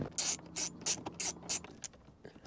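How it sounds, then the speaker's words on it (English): Hyper Tough ratcheting screwdriver removing screws from a Miata's interior trim, a quick run of about six sharp ratcheting clicks in a steady rhythm, close and fairly quiet. "Got the Hyper Toughs ratcheting screwdriver, and we ready to get this out of here."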